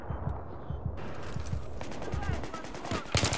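Rapid bursts of automatic gunfire from a first-person shooter video game, loud and close, with rhythmic repeated shots running throughout and a sharper burst near the end.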